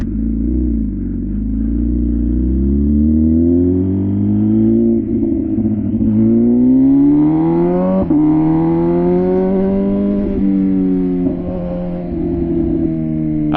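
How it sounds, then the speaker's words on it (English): An MV Agusta Rush 1000 motorcycle engine revs loudly and steadily for the whole stretch, its pitch climbing and falling through several sustained throttle swells, with no voices over it. "This bike is so freaking loud. Everyone just keeps like, what is that thing? What is that noise?"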